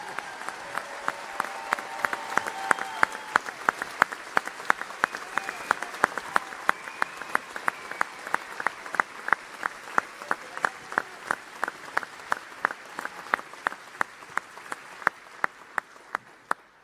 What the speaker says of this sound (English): let us once again show our commitment by giving Sadhguru a loud round of applause.